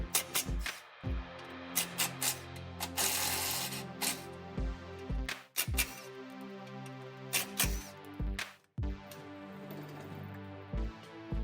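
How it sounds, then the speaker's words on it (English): Ratchet removing bolts from the braces of a 2022 Toyota Tacoma, quiet close clicking in quick bursts separated by short pauses. "we are going to remove the 2 bolts from the braces here, 2 on each side"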